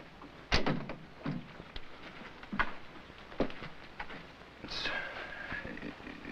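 A door swings shut during a rainstorm, landing as a sharp thud among several knocks and bumps over steady rain patter, with voices talking nearby.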